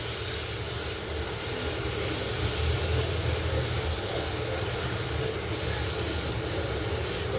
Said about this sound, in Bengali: চলো আলুগুলোকে এবার ভাজবো